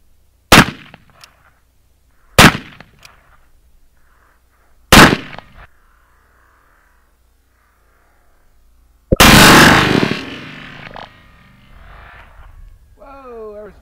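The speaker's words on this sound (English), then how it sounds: "You'll see him fire three shots. The first two go off as they should, but pay extra attention to the third one." A firearm fired three times, the third shot a chain fire: two sharp, widely spaced reports, then a louder, longer blast after a pause, with faint rustling and a brief voice-like sound at the end.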